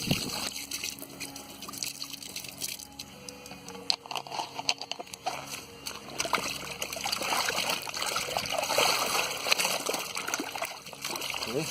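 A raw drum hide, already defleshed and dehaired, is sloshed and rinsed in clean fresh water, giving close irregular splashes, trickles and dripping patter that build toward the end.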